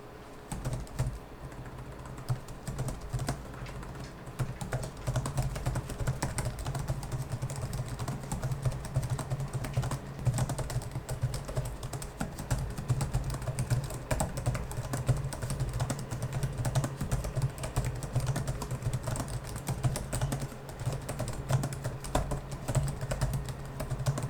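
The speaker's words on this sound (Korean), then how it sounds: "그럼 타건음을 들어보도록 하겠습니다" Steady, close-up typing on an Aorus 7 gaming laptop's full-size pantograph keyboard, a continuous flurry of soft, quick key clicks with no talking.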